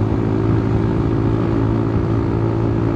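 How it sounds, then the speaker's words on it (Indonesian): A motorcycle rides fast along a road, its engine droning steadily and loudly, close by, with a constant low hum and rushing noise and no pauses. "Bawa motornya kenceng amat"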